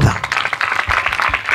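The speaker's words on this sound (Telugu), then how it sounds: "నమ్మినోడు గట్టి చప్పట్లు కొడదాం." A church congregation at a Telugu Catholic worship service claps together loudly, a dense, steady patter of many hands lasting a brief moment.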